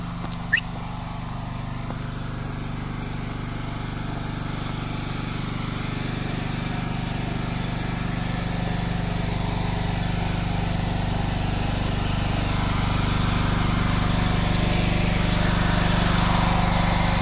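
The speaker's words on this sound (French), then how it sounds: "Avec un genre de groupe électrogène, je pense." A small engine like a generator drones steadily throughout, a constant low rumble that grows slightly louder toward the end, with no talking.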